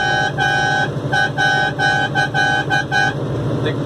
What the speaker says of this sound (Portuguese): A buzina bufou.